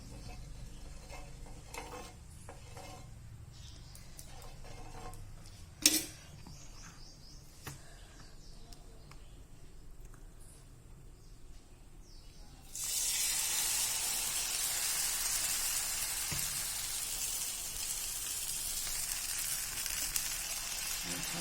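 Oil poured into a pan for a breakfast dish, quiet scraping and stirring at first, then a sudden bright, loud sizzle that swells and holds steady to the end, with no voices.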